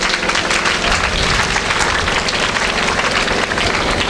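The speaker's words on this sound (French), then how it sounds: "Vous pouvez vous applaudir encore." Audience at a school back-to-term ceremony applauding steadily, a dense, continuous wash of clapping that stays loud and even throughout with no voices standing out.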